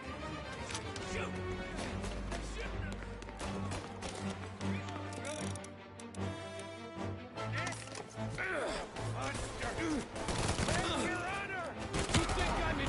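Gunfire in Mafia: Definitive Edition, a dense stretch of repeated shots and bursts mixed with game music and effects, with character voices talking over it throughout.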